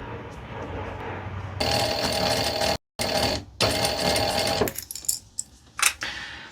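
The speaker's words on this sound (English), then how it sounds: "let's now get these two edges here sewn down along there" A sewing machine stitches down the edges of faux fur fabric for a shoulder bag, running in loud steady bursts with a short pause, then stopping and starting in brief stutters.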